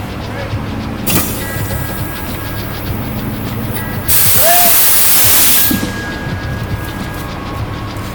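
Air brakes on a heavy-duty truck release a loud, steady hiss of escaping air lasting about a second and a half mid-clip, with a brief click before it and softer air and mechanical noise around it.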